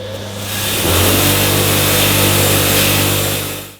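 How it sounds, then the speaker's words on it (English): A bench wire wheel cleans the threads of head bolts from a two-stroke outboard motor, spinning up into a loud, steady, harsh whirring roar that holds constant and then cuts off at the end. "I'm going to put these head bolts onto a wire wheel, clean the threads up"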